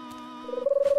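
Cartoon doves give a soft, tonal coo that rises and pulses in quick repeated beats toward the end, close and clear with no other sounds around it.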